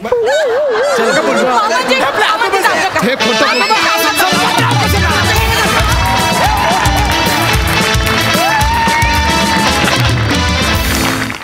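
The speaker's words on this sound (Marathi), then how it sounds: "जोरदार टाळ्या" Loud, dense crowd of a live Marathi comedy show audience clapping and cheering continuously throughout, with laughter and musical tones mixed in.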